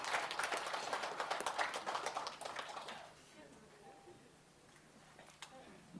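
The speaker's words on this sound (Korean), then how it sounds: "여러분 박수로 환영해 주시기 바랍니다." An audience at a 2001 Korean disability human rights award ceremony claps in welcome, a brief moderate burst that fades out after about three seconds into quiet room tone.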